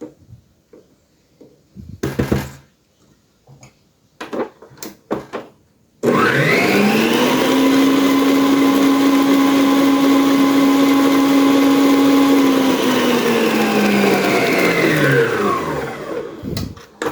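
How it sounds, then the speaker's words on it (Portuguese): Electric stand mixer beating cake batter for a rolled cake, a few clattering knocks and then a loud, steady motor whine that holds for about ten seconds before slowing and stopping. "agora eu vou bater rapidinho aqui na batedeira"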